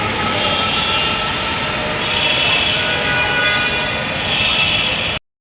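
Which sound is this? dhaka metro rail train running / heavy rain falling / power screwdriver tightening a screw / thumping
dhaka metro rail train running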